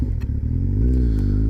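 Motorcycle engine in second gear braking on a closed throttle, a loud, close, continuous low drone that wavers slightly and drops in pitch, with no voices over it.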